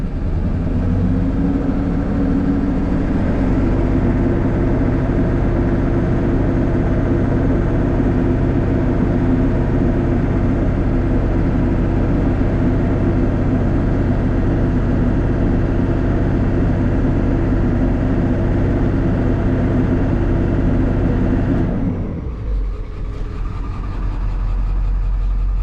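A Ford 7.3 Powerstroke diesel in a Super Duty truck with high exhaust back pressure idles loud and close in a steady, heavy drone, then briefly shifts near the end as it is given fuel.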